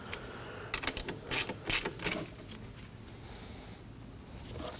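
A ratchet tightens the alternator belt tensioner on a 2003-2006 Subaru Baja, giving a short burst of several quick, sharp metallic clicks up close before it goes quiet.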